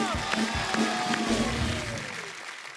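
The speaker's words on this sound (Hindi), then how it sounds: "एक बार जोरदार तालियां स्पाइडरमैन के लिए" Studio audience on a TV comedy talk show applauds loudly for a guest in a Spiderman costume: a dense burst of clapping and crowd noise mixed with a gliding musical sting, fading toward the end.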